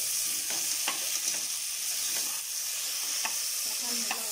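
Tomatoes frying with onions in a pan for chicken biryani, giving a steady, close, bright sizzle with occasional soft scrapes of stirring throughout, no voices.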